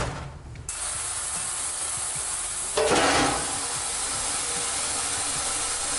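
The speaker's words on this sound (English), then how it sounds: "I'm gonna put this into the sonic cleaner for a little bit longer" Ultrasonic cleaner running steadily with a small Honda Cub C70 motorcycle part inside, giving a constant hiss and hum with a brief louder surge midway. No one speaks.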